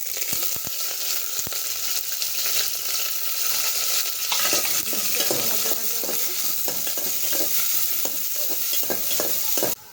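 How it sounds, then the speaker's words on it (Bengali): Onions and whole spices (cinnamon, cloves, cardamom, dried chillies) fry in oil with a spoon of ghee, giving a steady close sizzle with intermittent stirring scrapes throughout and no voices. "বন্ধুরা পেঁয়াজটা ভাজা হয়ে গেছে"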